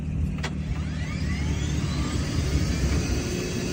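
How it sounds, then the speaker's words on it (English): A steady, whooshing turbine car engine drone with a high whine, jet-like and running continuously at close range, with a low rumble beneath, in a video game. "That's not a normal engine."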